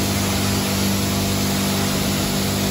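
A self-service car wash jet sprays and rinses a Tesla, giving a loud, steady hissing rush of water with an underlying pump drone, constant and close throughout.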